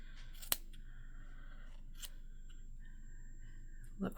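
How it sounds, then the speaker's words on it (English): Scissors snip through yarn loops while a pompom is being made, giving a few sharp, quiet cuts spaced apart over faint rustling. "put your scissors in and chop on those all the way across"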